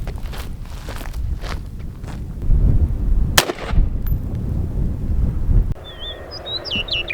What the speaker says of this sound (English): We're going to shoot it with the 223.